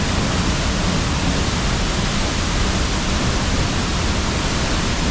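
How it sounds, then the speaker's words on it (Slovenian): Steady, dense roar of a waterfall in Slovenia, loud and close, a continuous broadband rush with no pauses and no voices over it. "Še vertikalni posnetek celotnega slapu."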